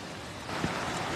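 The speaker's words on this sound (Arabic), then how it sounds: "شوفها طبعا مطر غزير جدا جدا جدا" Very heavy rain pouring down on a flooded street, a dense steady hiss and wash of water throughout the short stretch, loud and close with no voices.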